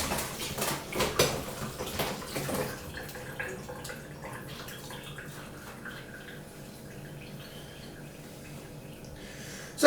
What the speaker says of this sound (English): Where's my kitchen hand to do my dishes for me?